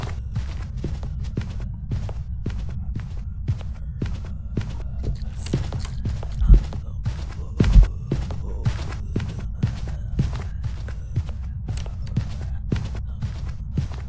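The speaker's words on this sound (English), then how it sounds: "listen to the ghost footstep speed during hunts" A hunting ghost's heavy footsteps in the horror game Phasmophobia thud in a fast, steady rhythm over a low droning hum. They run for the whole stretch, loud and close, with two sharper thumps partway through and no talking.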